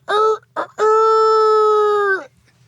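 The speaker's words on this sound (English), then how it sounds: "we won't talk about how we recorded the rooster" A rooster crows loudly and close, with two short clipped notes followed by one long sustained crow that tails off, set against a quiet low background hum.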